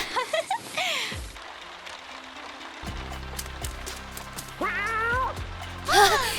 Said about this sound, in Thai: ฟังเสียงเจ้าแมวน้อยสิ